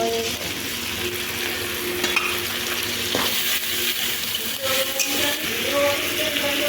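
Onion, green chili and ginger-garlic paste fry in hot oil and are stirred, a constant close sizzle broken by scraping clicks, with faint tonal voice-like sounds drifting in behind it.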